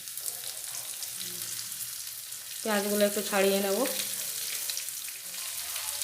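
Chopped onions sizzle and crackle in hot oil with already-fried ginger and garlic for chicken chow mein, a steady frying hiss throughout while someone speaks briefly in the middle.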